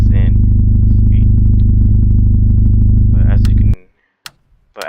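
Vehicle engine in the Roblox game A Long Road, a loud, steady low drone close up for several seconds with clicking on top, then it cuts off abruptly into near silence broken by brief clicks.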